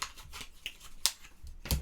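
Five city cards from the Under Falling Skies board game being loosely moved around and shuffled by hand, a few quick papery swipes and flicks close by, with no talking.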